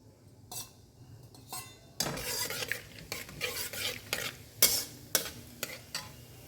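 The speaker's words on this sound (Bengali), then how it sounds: "তেলটা যখন গরম হয়ে যাবে তখন আমি এখানে ফোড়ন হিসেবে দিয়ে দেবো একটা তেজপাতা দুটো শুকনো লঙ্কা" Bay leaf, dried red chillies, cumin, cardamom, cloves and cinnamon tempered in hot oil for egg curry, with crackling and sizzling, metal spoon clinks and stirring scrapes against the pan, close and fairly quiet.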